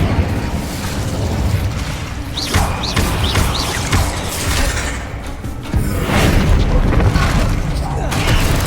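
An Incendio fire spell bursts in Hogwarts Legacy amid loud, continuous combat noise: deep booms and thuds with crackling bursts and a few short whooshing sweeps, with a voice faintly mixed in.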